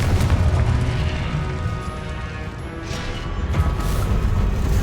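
Confringo blasting spells explode repeatedly during a boss fight in Hogwarts Legacy, a loud, continuous roar of booming blasts and crashing impacts with dense low rumble throughout.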